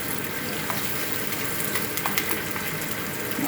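Tomato pieces fry in a pan of Telangana-style goat head curry, giving a steady, close sizzle with a few faint clicks and stirs and no talking.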